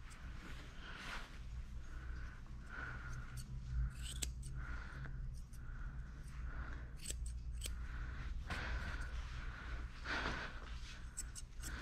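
Grooming scissors snip through a matted Shih Tzu's fur in quick, close, repeated cuts, a steady run of small metallic clicks over a low background hum.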